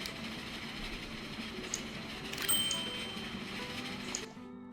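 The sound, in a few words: trains in Transport Fever 2 video game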